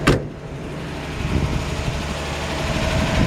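A 1950 Chevrolet 3100 pickup engine idles steadily and a touch fast, a continuous low rumble heard close up with no talking over it.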